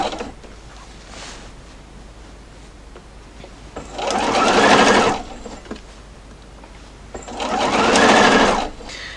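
An industrial Juki sewing machine stitching binding onto a scrap quilt, two bursts of loud rapid mechanical whirring a few seconds apart, with quiet pauses between them and no talking.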